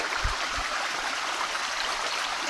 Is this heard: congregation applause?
no